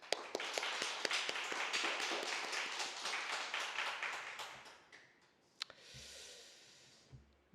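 Congregation clapping at a Wednesday prayer service in a church, a sustained round of many hands applauding that swells, then fades out after about five seconds into quiet room noise with a few stray claps.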